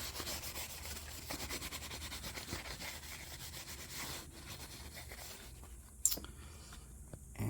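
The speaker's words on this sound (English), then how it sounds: "Here I've got a piece of 60 grit sandpaper, and I'm just going to rough this up." Sixty-grit sandpaper roughing up an aluminum surface, a steady close rasping scrub that runs for several seconds, then a brief sharp knock near the end.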